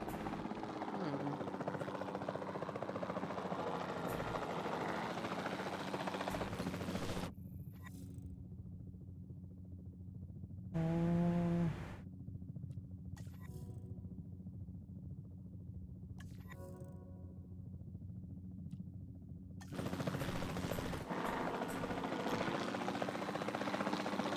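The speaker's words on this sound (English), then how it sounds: "Then the sensible thing is to take a capture team helicopter." Capture team helicopter in Jurassic World Evolution 2, a steady rotor drone that runs throughout and drops to a quieter interior tone in the middle section, with brief game tones and a voice heard at times.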